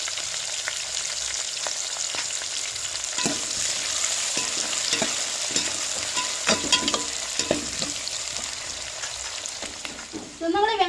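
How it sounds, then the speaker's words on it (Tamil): Onions and green chillies sizzle steadily in hot oil with fenugreek and curry leaves, a loud continuous frying hiss, with occasional spoon stirs and clinks near the end. "வெட்டி வச்ச வெங்காயத்தையும் சேர்த்துக்கிறோம் அஞ்சு பச்சை மிளகா சேர்த்துக்கிறோம்"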